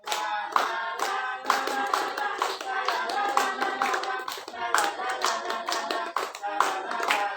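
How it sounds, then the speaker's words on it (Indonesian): Group of children clapping their hands in rhythmic bursts during a school physical education lesson, loud and close, with short pauses between rounds of clapping over about seven seconds. "tepuk tangan buat kita semuanya dulu"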